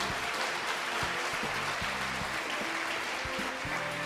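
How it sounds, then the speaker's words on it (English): Applause from an awards-ceremony audience at the City of Destiny Awards, a steady dense wash of clapping that holds throughout, with faint voices mixed underneath. "round of applause for Amanda there"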